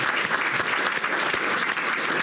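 An audience at a St Patrick's Day luncheon claps warmly for musicians who played traditional Irish music, a dense, even burst of applause with a faint crowd murmur beneath.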